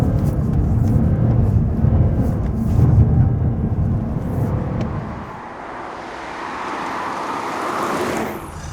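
An Alpina D4 Biturbo diesel car on the move, a steady road and engine roar with tyre noise, heavy at first, then shifting into a lighter, rushing whoosh as it continues.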